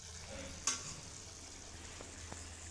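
Fish and fish roe sizzle and fry in a pan for a bhuna, with a steady soft crackle, a brief clink of stirring and low kitchen hum, all fairly quiet.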